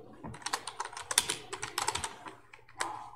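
Rapid, irregular clicking of a computer keyboard as a name and initials are entered into a spreadsheet cell, close and crisp with short pauses between bursts of keystrokes.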